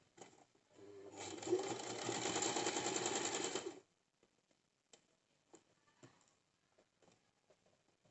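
A sewing machine runs a stitching seam on a cigar pant for about three seconds in a steady rapid whir, then stops, leaving faint ticks and small handling clicks.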